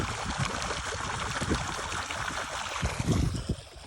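Irrigation water runs into a field channel in a cumin field, a steady rushing, gurgling flow close by with fluctuating splashes and no voices.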